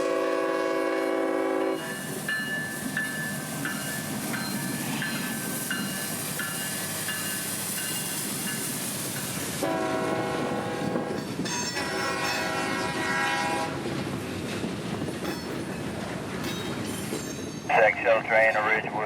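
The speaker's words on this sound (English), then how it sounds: "now turning the cameras to the south leg of the Y here as 361 arrives from the east" A CSX freight train arrives at a rail wye on a hot June afternoon, its horn sounding in long, loud blasts over the rumble and squeal of rolling wagons, with a brief burst of another horn near the end.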